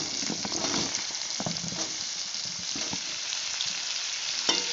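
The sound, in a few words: potatoes and cauliflower stems frying in a pan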